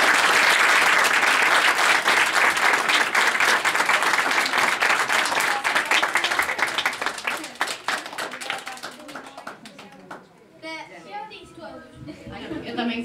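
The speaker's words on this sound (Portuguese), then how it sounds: "Uma salva de palmas para todos eles" Dense applause from a large audience fills the room, loud and steady for several seconds before thinning into scattered claps and a voice beginning to speak near the end.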